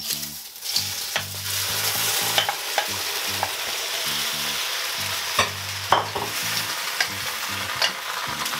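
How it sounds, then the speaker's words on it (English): Jumbo shrimp tossed fast in a hot wok give a loud, steady sizzle broken by repeated scraping and clattering hits as they are flipped, with no one speaking. "We want to throw them in the wok and toss them very quickly until they turn pink."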